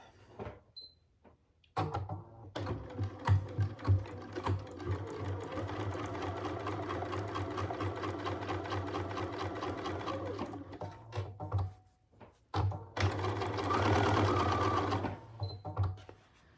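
A sewing machine stitches a fold-and-go wallet in a rapid, steady mechanical whir. After a few short starts it runs in long bursts, stops briefly, then runs again, loud and close with no voices.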